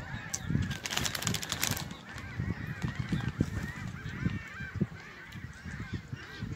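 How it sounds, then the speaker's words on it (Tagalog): Many geese honking nearby behind a seaside picnic spot, a busy overlapping chorus of calls with fluttering noise, steady and fairly close throughout. "Ang daming ibon dito sa likuran."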